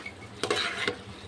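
A chana dal mixture is stirred and sautéed in a hot pan for the spiced Maharashtrian dal, a few short scraping strokes with a soft sizzle underneath, near and brief, with no voices.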